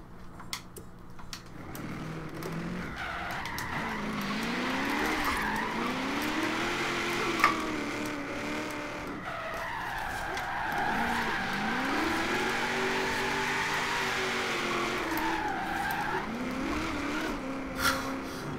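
A racing car engine in Forza Horizon 3, a Nissan 240SX Rocket Bunny drift build, revs up and down continuously while tires squeal through long drifts, loud and sustained with no voices.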